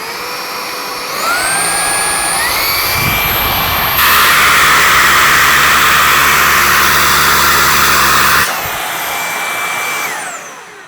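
A Roidmi S2 cordless vacuum cleaner whines loudly and steadily up close, its motor pitch stepping up through power settings to a harsh rushing peak, then dropping back and winding down.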